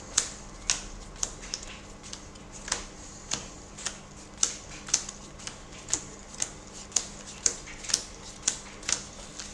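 Deck of trading cards being shuffled by hand, a quiet, close series of crisp riffling clicks and snaps repeating at a fairly regular pace, with no talk.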